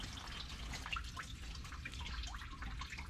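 Dirty coolant drips and trickles into a bucket as the radiator of a Nassau blue 427 Corvette is flushed; faint, scattered drips sit under a steady broadband hiss.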